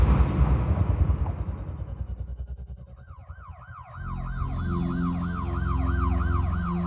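Ambulance siren wailing in a rising-and-falling pattern as an emergency vehicle responds to a call at a multifamily home in Chicago, emerging loud and steady over engine rumble after a noisy stretch.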